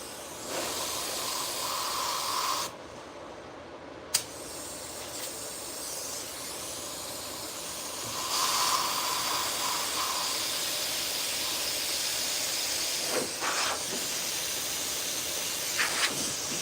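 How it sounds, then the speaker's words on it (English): A hot air touch-up gun cranked to 500 degrees blows a loud, steady broadband hiss. It cuts out briefly and sharply partway through, then resumes and carries on evenly to the end. "I'm using the touch-up gun at 500 degree temperature"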